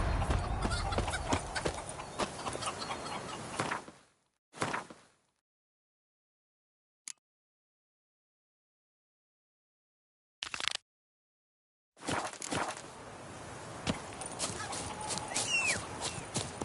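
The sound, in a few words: horse galloping in the video game The Witcher 3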